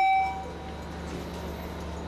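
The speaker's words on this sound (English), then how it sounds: "Now we're on one of our older trains." Interior of an older MARTA subway train, where a brief high tone at the start fades into a steady low hum and rumble of the moving car.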